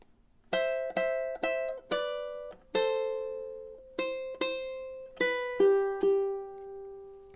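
A ukulele picks out a slow melodic phrase from Margaritaville, about a dozen clear plucked notes with ringing decay, close and alone with no talking.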